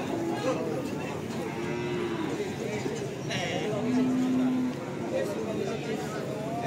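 Simmental cattle moo at a livestock market in Tuban, with a few drawn-out lowing calls rising over busy crowd chatter and people talking nearby.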